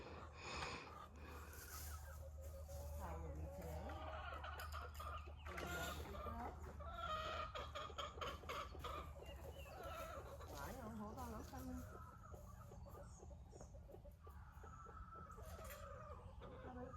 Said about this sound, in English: So here's our chickens.